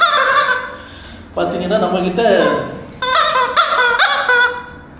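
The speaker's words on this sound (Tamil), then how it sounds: "4 கீச்சுன்னு கத்துற கோழி இருக்குது." Squeaky rubber chicken toys let out shrill, wavering screams in two loud bursts lasting a second or more each, with a person talking before and between them.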